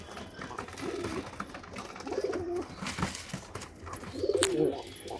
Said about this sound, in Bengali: এখন আমার সব কবুতর আস্তে আস্তে নামতেছে